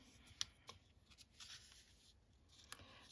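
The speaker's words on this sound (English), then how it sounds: "Fold these sides in." Thin vintage encyclopedia paper is folded into an envelope, making soft crisp rustles and a few sharp crinkling snaps, close and quiet, with no talk.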